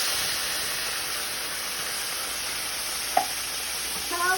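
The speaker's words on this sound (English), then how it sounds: "I'm gonna fry the can of tomato with the rice." Canned tomato fries with rice in a pan, making a constant close sizzle and hiss with a sharp utensil tap near the end and brief stirring scrapes after it, with no talking.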